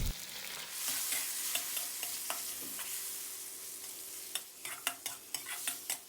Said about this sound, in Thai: ให้เราใส่หมู 3 ชั้นลงไปผัดให้สุกเลยครับ